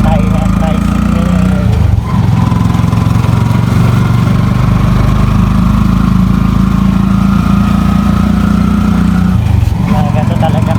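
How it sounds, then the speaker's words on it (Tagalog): Motorized tricycle engine drones steadily and loudly from inside during a ride, a constant buzzing putter with brief dips in pitch as it shifts, and a voice talks over it. "nakasakay na tayo ng tricycle"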